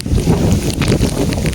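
Steady, loud wind buffeting a microphone outdoors, a continuous low rumble with no pauses for the full moment.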